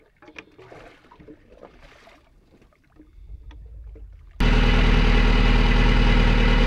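A sailboat motors under engine with no wind, first quiet water and faint knocks on board, then a loud, steady engine drone cuts in and runs on unbroken.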